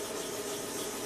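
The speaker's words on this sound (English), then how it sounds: "And what you'll do is you'll just keep kind of wet sanding" Wet sanding knocks back a coat of varnish, a close, continuous soft rubbing hiss with an even rhythm and no talk.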